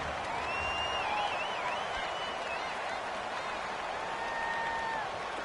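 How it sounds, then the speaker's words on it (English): A stadium crowd in a PS4 American football game cheers in a steady, fairly loud wash of noise, with whistling and shouting tones rising over the roar for several seconds. "The crowd getting into it as we come up on a big 3rd down."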